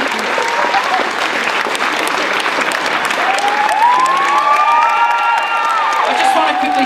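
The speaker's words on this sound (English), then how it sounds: "Give a round of applause" A crowd at an honorary fellowship presentation for Joe McElderry at the Customs House applauds loudly and steadily, with some cheering and whoops mixed into the dense clapping.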